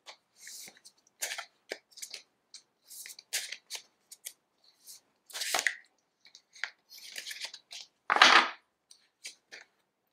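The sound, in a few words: pulling a card from an Animal Oracle deck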